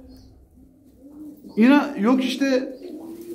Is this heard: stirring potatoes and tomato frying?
no